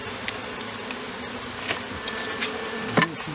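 A dense, steady buzzing of many honeybees during installation of a package colony fills the clip, with a few sharp taps and clicks standing out near the end.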